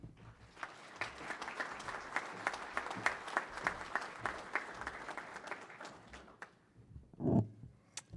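Audience applause at the University of Idaho spring commencement in Idaho Falls, welcoming the 2025 commencement speaker: a sustained burst of dense clapping from a large crowd that tapers off near the end, followed by a brief low thump.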